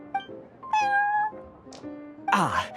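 A cat meows several times in short, high, wavering calls separated by brief pauses, ending in a louder drawn-out cry, close and clear.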